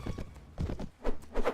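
Horse hooves clip-clop on the ground in Mount and Blade Warband, four soft irregular thuds of a walking mount, fairly faint and up close with no talk.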